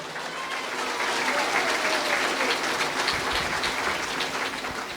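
A church congregation breaks into strong applause, a dense, continuous rain-like roar of many hands clapping that holds steady and loud throughout.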